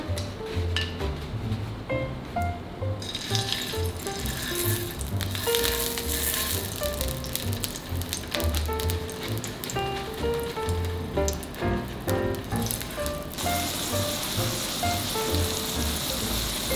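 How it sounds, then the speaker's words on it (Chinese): Wet tofu skin fries in hot oil in a home kitchen, a continuous loud crackling sizzle with scattered sharp pops and spatters throughout. "下豆皮，豆皮有点湿，等一下可能会油爆"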